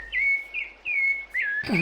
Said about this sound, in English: Damn, those birds are loud.